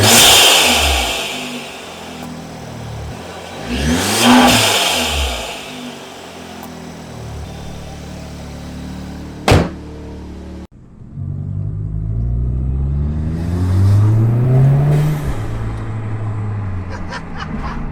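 An Audi S3/Golf R fitted with a loud aftermarket intake revs repeatedly, its engine climbing and falling in pitch with deep rumble and intake whoosh, close and loud, alone with no talk.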